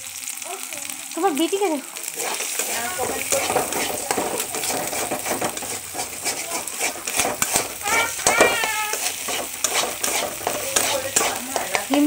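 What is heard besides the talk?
egg frying in a pan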